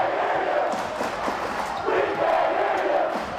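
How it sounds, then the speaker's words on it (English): A Riverton high school basketball crowd cheering and shouting in a gym, a dense, lively roar that swells and dips over a few seconds with scattered yells rising above it. "Riverton's crowd getting highly involved."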